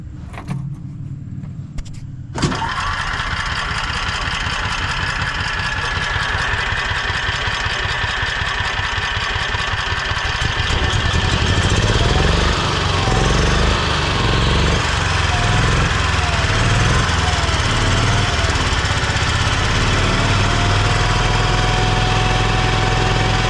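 A Toro Workman utility vehicle engine with a gummed-up carburetor cranks and catches, then runs loud and steady at close range, its rough rumble rising and settling into a sustained even drone.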